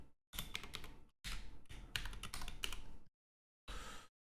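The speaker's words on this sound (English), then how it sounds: "This mic captures the keyboard" Someone types on a computer keyboard, picked up closely by a microphone, in dense bursts of rapid clicky keystrokes separated by short pauses, ending with one brief flurry after a silence.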